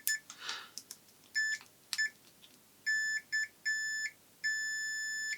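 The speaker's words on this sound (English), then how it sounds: "continuity, which is the mode that beeps when the leads create a complete circuit" A multimeter's continuity tester gives a series of sharp electronic beeps, short and longer tones in an irregular pattern, close and clear, with light handling clicks, while testing a Salter electric juicer that has no power.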